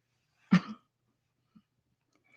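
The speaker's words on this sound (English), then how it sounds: "I'm clearing my throat" A single short, close throat clear rasps out in quiet surroundings, followed by a faint soft click a moment later.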